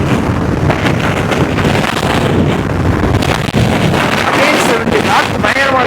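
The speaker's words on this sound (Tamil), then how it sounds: "காற்று பயங்கரமா இருக்கு. 2 நாளா இன்னைக்கும் அதே மாதிரி தான் பயங்கரமா காத்தடிக்குது." Strong wind buffets the microphone while a Royal Enfield motorcycle is ridden outdoors, a constant loud broadband roar that masks almost everything else, with a voice speaking faintly underneath.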